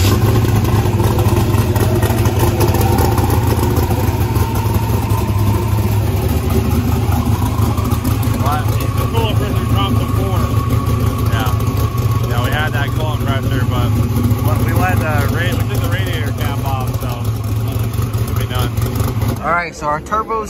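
A turbocharged drag race car engine runs in a loud, rough, continuous idle with some revving, while people talk over it throughout.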